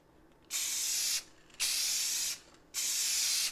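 Acrylic lacquer gloss mists from a spray can onto a Corvair body panel in three evenly spaced bursts of close, bright hiss, each about a second long, separated by brief quiet gaps.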